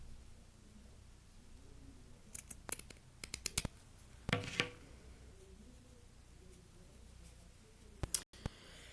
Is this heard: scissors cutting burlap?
yes